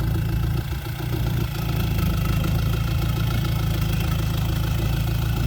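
A turbocharged Nissan 3000 engine fitted to a Thai i-taen farm truck runs loud and steady at close range, a continuous rumbling drone with a faint turbo whine on top.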